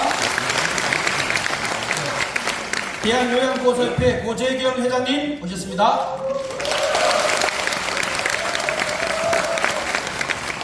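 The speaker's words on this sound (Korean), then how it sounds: "박수 한번 부탁드립니다." Applause from the audience at a National Assembly policy forum on long-term home care, loud clapping at the start and again toward the end, with a presenter announcing over the middle section on a microphone.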